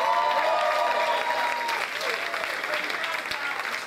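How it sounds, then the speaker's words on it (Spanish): An audience at a video game music medley concert applauds steadily throughout, dense clapping with voices mixed in. "Un aplauso para ellos, por favor, gracias"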